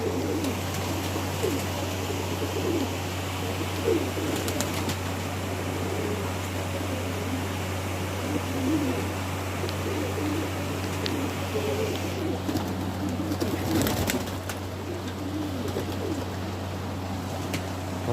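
Rajshahi Giribaz pigeons in a loft, low soft cooing repeating steadily through a constant fan or air-conditioner hum, with a brief louder rustle or flutter near the end.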